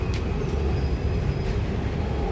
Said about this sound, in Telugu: ఇవాళ ఎన్ని ట్రైన్స్ వస్తున్నాయి